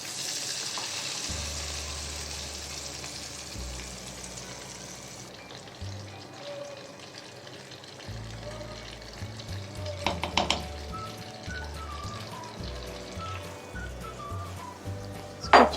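Chicken tipped into hot oil and butter in a pan, a steady sizzle with intermittent stirring scrapes and clinks nearby, some louder clatter near the end.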